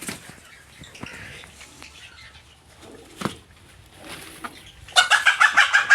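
Chickens cluck and squawk close by, then a burst of rapid wing flapping near the end, with scattered rustling and faint bird calls.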